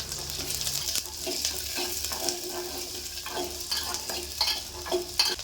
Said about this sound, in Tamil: வெங்காயம் பூண்டெல்லாம் நல்லா வதங்கி வருதுங்க